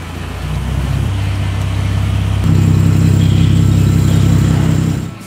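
A Ford Mustang rolls into a workshop, its engine a loud, close, steady low rumble that steps up in pitch and strength midway before cutting off near the end, with no talk.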